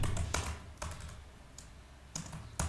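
Computer keyboard typed on to enter git add and git commit commands, a few quick close clusters of key clicks separated by short pauses, with no talk.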